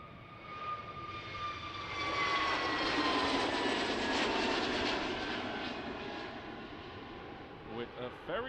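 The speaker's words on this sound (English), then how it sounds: "Let's go over to the Transavia A321 on the runway." A Transavia Airbus A321 jet taking off from runway 36L at Schiphol Airport, its engine roar rising to a loud, broad whine mid-clip and then slowly fading, with a voice talking under it near the end.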